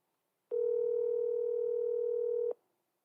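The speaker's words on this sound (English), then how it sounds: "It's ringing." A single steady ringback tone sounds over a phone on speakerphone, holding for about two seconds before cutting off cleanly, alone with no voices.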